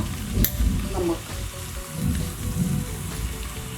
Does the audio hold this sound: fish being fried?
yes